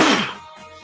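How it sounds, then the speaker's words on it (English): A single loud, sharp sneeze bursts out at close range, then trails off quickly into quiet. "Hold on, I got to sneeze here."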